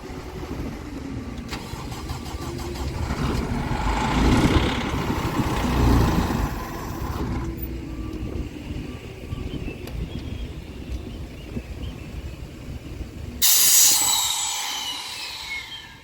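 A Doosan 7/73 250 CFM sandblasting compressor starts, then its engine runs loudly and steadily close by, with a rough, rumbling idle and a sudden hissing burst near the end.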